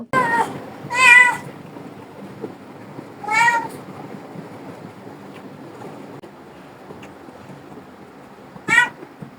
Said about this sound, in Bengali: ওই শুধু মিউ মিউ করতেছিল।